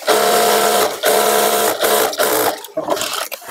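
Sewing machine stitching a Patiala garment, running in loud rapid bursts with brief pauses between runs of stitches, close to the microphone.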